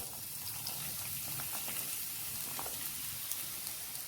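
Chopped onions hit hot oil for a Kerala karimeen pollichathu, giving a soft, steady crackling sizzle with no talking.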